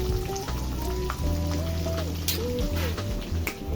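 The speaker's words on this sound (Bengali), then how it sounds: "মাছ ভাজা হয়ে গেছে" Fish fries in oil in a pan in a home kitchen, giving a continuous close sizzle over a steady tonal background hum, without clear speech.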